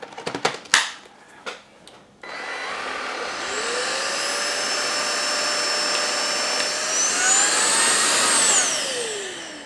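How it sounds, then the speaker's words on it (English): Vacuum cleaner with a rotating brush head running on carpet: a steady, loud motor whine that rises and falls in pitch, preceded by a few sharp clicks and knocks before it starts. "because it's a rotating brush, so when you vacuum in, I'll just show you actually."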